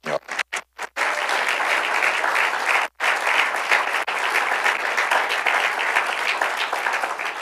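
Church congregation breaking into sustained applause after a call from the pulpit, dense and loud clapping that starts in a few short bursts and then fills the room steadily for several seconds.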